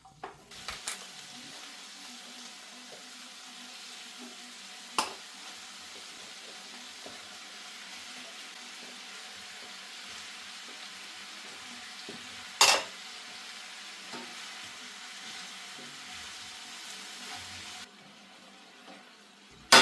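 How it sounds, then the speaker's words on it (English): Vegetables fry in leftover sausage grease in a pan during a spicy sausage and rigatoni dinner, giving a steady low sizzle throughout with a few sharp clinks of a utensil against the pan. "Cook the veggies in that leftover sausage grease I told you about to kick up the flavor."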